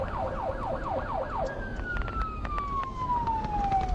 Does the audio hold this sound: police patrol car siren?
yes